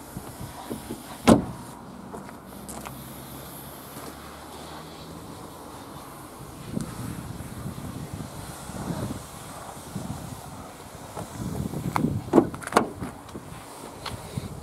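Front electric windows of a Ford Focus 2.0 TDCi Zetec S hatch whirring inside the car, with short motor runs and clicks near the start and again near the end over a quiet cabin background.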